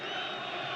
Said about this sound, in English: a little pocket of Nigerian fans are going wild